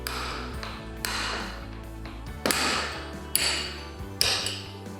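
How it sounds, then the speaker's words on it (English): A hammer taps a pin punch to knock out wheel axles, giving three or four sharp, ringing metallic strikes spaced about a second apart, each followed by a brief metallic ring. "Use the hammer to gently tap on the pin punch until the wheel axles dislodge."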